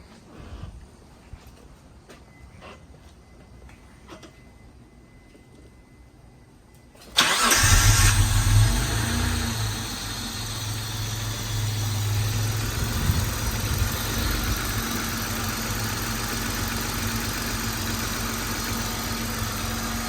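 A Dodge Stealth R/T with a newly installed cold air intake cranks with the clutch in, catches suddenly and settles into a steady, loud idle that hums on close by after a quiet stretch.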